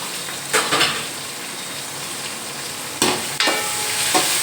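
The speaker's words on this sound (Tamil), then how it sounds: "பச்சை மிளகாய் இதுவும் நல்லா வதங்கட்டும்." Onions and green chillies sauté in a pan for a mushroom gravy, with a loud, steady sizzle punctuated by three or four brisk stirring scrapes of a spoon against the pan, no one talking.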